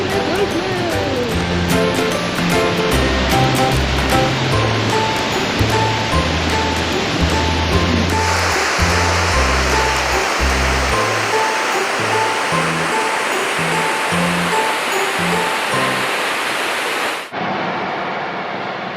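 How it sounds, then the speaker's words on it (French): Rushing water of a triple waterfall in Cappadocia, a steady broad roar heard alongside music with a beat, the water noise continuing to the end after the music cuts. "D'une magnifique cascade qui est 1, 2, 3 triplée,"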